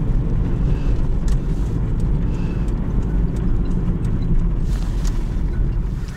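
A vehicle approaches outdoors, heard as a steady low engine rumble over wind-like noise, fairly loud throughout with a few faint clicks and no speech.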